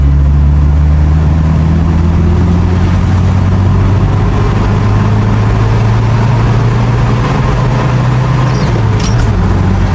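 A high-mileage Toyota HiAce Siyaya minibus taxi accelerating hard in third gear, its engine a loud, continuous low drone that climbs slowly in pitch, heard close from inside the cabin with no talk.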